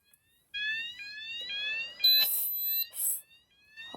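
A fire alarm sounder goes off after activation, pulsing through a sequence of stepped rising electronic tones with short, sharp bursts mixed in. It is loud and close, with no talking.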